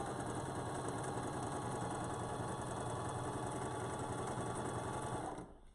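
Mechanical sewing machine stitching a quilt, a fast steady needle chatter running continuously at close range, then stopping abruptly at the end.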